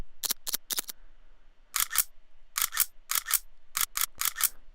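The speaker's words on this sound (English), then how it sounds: "if you actually like get a sample like this one's a guncock" A gun-cock sample is played as a transient: crisp mechanical clicks arrive in quick pairs and clusters, loud and close against silence.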